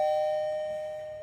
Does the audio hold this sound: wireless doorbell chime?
yes